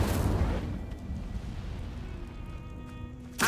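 A booming burst opens as the Incendio fire spell is cast in the video game Hogwarts Legacy, a heavy blast that decays into a low rumbling tail, with a second sharp hit arriving right at the end.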